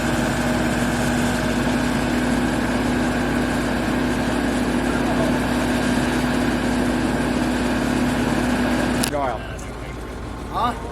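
Engine-driven water pump running at an AquaDam site on the Trans Canada Pipeline near Fox Creek, Alberta, a steady droning hum that continues evenly and then drops sharply to quieter background near the end.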